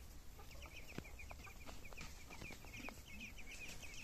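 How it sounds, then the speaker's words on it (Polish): Chickens on a free-range farmyard with a rooster, giving steady clucking and chattering calls throughout, fairly close, with no speech over them. "Kogut. Kogut."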